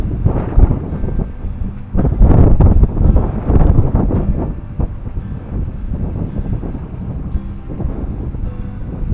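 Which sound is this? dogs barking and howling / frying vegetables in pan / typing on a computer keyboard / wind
wind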